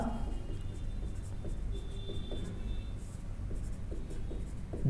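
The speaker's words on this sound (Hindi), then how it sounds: "तो हम यहां लिख लेंगे" Marker or chalk writing on a board during a Hindi-medium 10th-class science lecture on gravitation, a steady scratchy stroking over a low room hum, with no talk during the writing.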